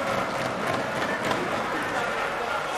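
A crowd in a Congolese assembly hall applauds colleagues who stand up. The clapping is a steady, dense wash, fairly loud and even throughout.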